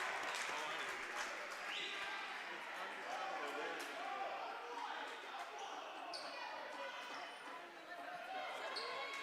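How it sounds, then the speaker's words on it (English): A crowd at a Bryan men's basketball game against Life University gives steady applause and cheering, with faint ball bounces and squeaks under continuous broad crowd noise. "Holmes goes down again to the applause of the crowd"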